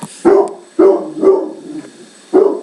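A dog barks four times in quick succession, loud and close, with short gaps between barks.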